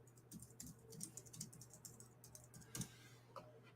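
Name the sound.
typing on a computer keyboard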